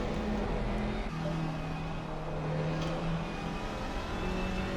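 A GT4 race car engine roars in a sim racing game at Indianapolis, a steady, loud drone whose pitch rises and falls slightly as it holds speed, with no talking.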